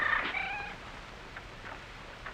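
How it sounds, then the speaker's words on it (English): A cat lets out a clear, drawn-out meow up close at the start, followed by a few faint, softer sounds in a quiet room, with no talking. "Come on, kitty. Nice little kitty."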